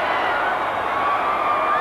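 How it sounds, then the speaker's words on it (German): Wrestling arena audience roaring and cheering at a 1990s WWF match, a dense, steady wall of crowd noise filling the space without a break. "Wieder unbeschreiblicher Jubel aus dem Publikum."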